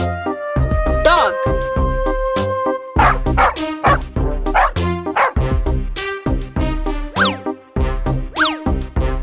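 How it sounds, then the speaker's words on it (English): A dog barks loudly and close, giving repeated bow-wow barks and yips over about nine seconds, mixed with bouncy cartoon sound effects and music in an animal-names learning video for children. "Dog."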